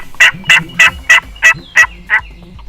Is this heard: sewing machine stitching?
no